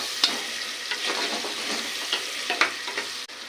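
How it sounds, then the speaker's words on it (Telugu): Onions frying in a pan until brown, with a steady crackling sizzle broken by a few sharp stirring scrapes and clinks close by, no voices. "ఇవి కొంచెం బ్రౌన్ కలర్ వచ్చేంత వరకు వేయించుకుందాం ఫ్రెండ్స్"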